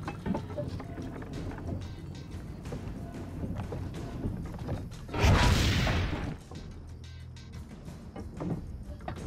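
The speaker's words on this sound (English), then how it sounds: "Cannons." A booming cannon blast in the video game Assassin's Creed Brotherhood erupts with a rushing burst over a background rumble and clatter, then fades back to ambient noise.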